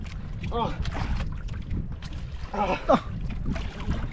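A small fishing boat pitches and slaps on large sea waves, with steady wind rumble against the microphone and splashing water, while voices call out intermittently over the noise.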